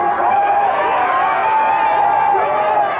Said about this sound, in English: As cheering crowds threatened to engulf him